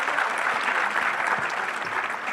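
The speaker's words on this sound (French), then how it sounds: "Alors oui, des applaudissements plus nourris pour le panel," Loud, dense applause from a conference audience for a panel at a peace and security forum in Lomé, continuous clapping throughout.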